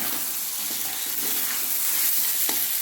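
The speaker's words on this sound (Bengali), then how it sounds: "গরম জল মাংসের মধ্যে দিয়ে দিচ্ছি।" Hot water going into a pan of simmering meat curry, giving a steady, close hiss and bubbling sizzle throughout with faint clinks and no talking.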